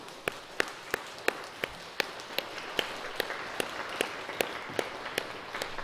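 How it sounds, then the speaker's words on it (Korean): A church congregation claps in thanks to God, a steady rhythmic beat of sharp, evenly spaced claps over a softer wash of scattered clapping in a reverberant hall. "이 시간 우리 하나님께 감사의 박수 한번 올려드리기를 원합니다"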